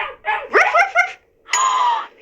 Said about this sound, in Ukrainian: Я чую песика.